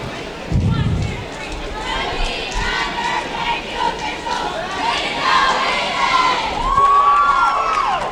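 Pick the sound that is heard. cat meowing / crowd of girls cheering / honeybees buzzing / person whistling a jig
crowd of girls cheering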